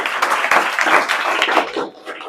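A classroom of students claps loudly and densely for a classmate's answer in a geography lesson. The clapping is close and continuous and tails off near the end.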